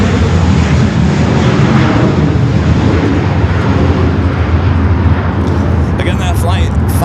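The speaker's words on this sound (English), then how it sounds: "Delta 767 coming in from Atlanta as we take South Cam" A Delta Boeing 767-300ER airliner arriving from Atlanta gives a loud, steady broadband roar that fills the whole stretch, with talk running over the engine noise throughout.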